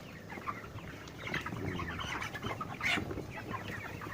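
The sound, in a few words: broiler chickens clucking in a coop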